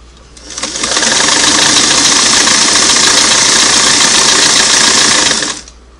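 A Singer Model 338 sewing machine runs zigzag stitching, loud and close, starting up, holding a steady rapid whir for about five seconds under the foot pedal, then stopping.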